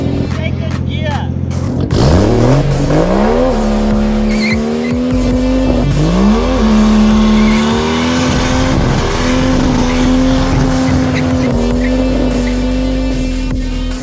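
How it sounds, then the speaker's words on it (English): A turbocharged Mercedes M104 engine revving hard in second gear during a dirty burnout, loud and close, with rising engine pitch, repeated rev surges and screeching tyres continuing throughout. "Did someone say do a dirty burnout? Second gear."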